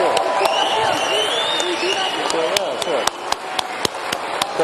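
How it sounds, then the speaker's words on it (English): Applause from an audience, a dense patter of clapping with crowd voices mixed in, steady and fairly loud throughout. "I would like a very, very warm round of applause to Elon Musk."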